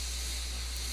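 Steady broadband steam hiss inside a locomotive cab in Trainz, the simulated steam engine A&WP #290, running continuously and fairly loud with no pauses.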